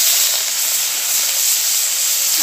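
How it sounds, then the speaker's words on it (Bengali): Shrimp dropped into hot mustard oil in a pan, giving a loud, steady, close hiss of frying that holds evenly throughout with no talking. "গরম তেলের মধ্যে এবার আমি চিংড়ি মাছগুলো দিয়ে দিলাম।"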